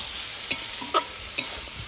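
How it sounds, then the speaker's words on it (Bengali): Goat meat trimmings frying with spices in a pan, giving a steady close sizzle with three sharp stirring scrapes over two seconds, without any talking. "এবার খাসির ছাটগুলা কিন্তু ভালো করে রান্না করে নিব।"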